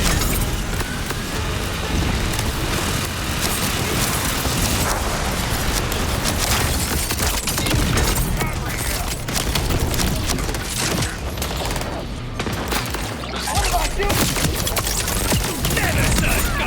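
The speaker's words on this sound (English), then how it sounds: "These grenades come in handy!" Repeated grenade explosions and heavy gunfire in Borderlands 4 on PlayStation 5 Pro form a dense, loud, unbroken barrage of booms and rumbling with mechanical clatter throughout.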